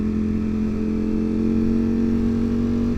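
Ducati Panigale V4 motorcycle engine running steadily at a constant idle-like drone with a strong low hum and no talk, close and continuous throughout.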